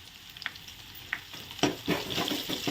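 Ginger-garlic paste and chopped onion frying in hot oil in a kadhai, a low steady sizzle broken by a few sharp spatters and stirring scrapes that grow louder and denser toward the end.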